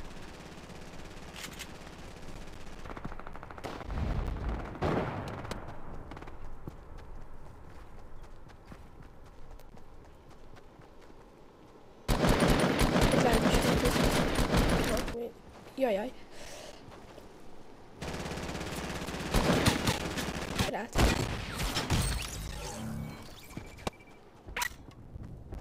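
Gunfire in Fortnite Season 7 gameplay, with bursts of rapid shots that come in loud dense blocks, alongside game footsteps and other effects, while a player talks over the action.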